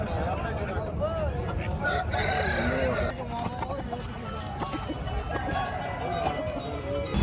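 Roosters crow repeatedly amid a busy outdoor crowd at a Friday market in Nallapadu, with chickens clucking and people talking throughout the background.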